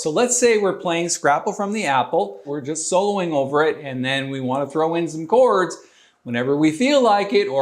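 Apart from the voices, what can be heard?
No everyday noises stand out.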